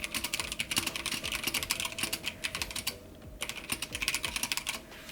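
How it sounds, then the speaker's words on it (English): Typing on a Drop Alt low-profile mechanical keyboard fitted with speed linear switches, heard as a steady, fast run of close clicking keystrokes with a brief pause near the middle and no voices. "I actually just got the Drop Alt keyboard, low profile with speed linear switches in it."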